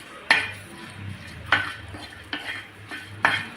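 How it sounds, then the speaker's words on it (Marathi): Green chillies roasting in a pan for a Maharashtrian dried Bombay duck thecha, with a low sizzle broken by several sharp scraping strokes of a spatula against the metal. "या मिरच्या आहेत त्या छान अशा भाजून घ्यायच्या आहेत."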